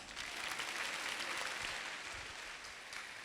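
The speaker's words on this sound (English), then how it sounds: "Let's give them a loud round of applause." Applause from a school class assembly audience after a student performance, a continuous wash of clapping, fairly faint and distant, with no voices over it.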